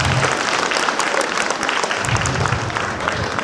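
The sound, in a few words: audience applause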